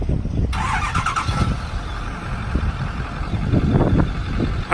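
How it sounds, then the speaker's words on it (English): A 2008 Ford F450 bucket truck's Power Stroke turbo diesel engine cranks and catches, then settles into a steady low rumble close by, with faint voices underneath. "Power stroke turbo diesel, very quiet. Smooth."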